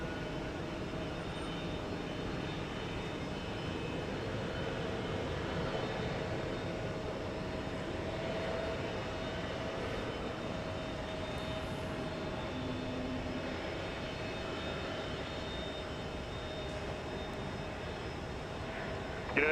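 An airliner rolls for takeoff on runway 15 right at Houston Intercontinental at daybreak, a steady broad engine roar heard from a distance that holds evenly throughout with no voices.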